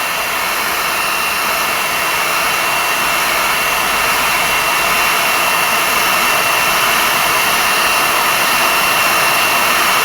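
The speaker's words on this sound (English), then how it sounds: "let's start the heat gun, start heating the injector up" Loud, steady blowing roar of a heat gun warming a fuel injector from a 2004 Subaru Forester, continuous and close with a faint whine, no talking.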